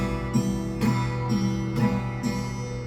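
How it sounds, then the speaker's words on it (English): Guitar strumming alternates nail downstrokes with index-finger flesh upstrokes in a steady rhythm, each downstroke bright and crisp and each upstroke softer, played close with nothing else heard. "if you are using a downward strum using the nails and an upward strum using the flash of your index finger, you sound like this"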